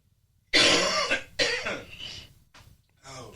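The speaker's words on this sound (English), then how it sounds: "Cough coming on." A man coughs close by in a few harsh bursts, two strong coughs followed by two smaller ones, with short quiet gaps between.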